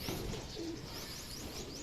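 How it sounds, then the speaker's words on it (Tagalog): A racing pigeon arriving at its loft after a 434 km race gives two soft, low coos close together early on, quiet against faint background chirping. "Ayan, dinatnan natin, dumating yung ibon."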